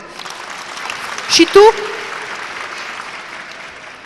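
Soft audience applause rises at a family chamber-music concert after a small child is introduced. The clapping stays a low, steady bed while a voice speaks briefly over it.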